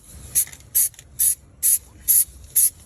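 SEM texture coating sprayed from an aerosol can onto a burn-hole repair on a Ford Edge seat, six short sharp hissing bursts in a steady rhythm with brief pauses between, close and clear.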